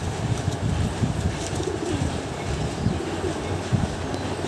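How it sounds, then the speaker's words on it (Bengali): A dum chera pigeon coos softly and intermittently over a constant rumble that resembles a passing train, with no voices. "দুম চেরা পায়রা এটা"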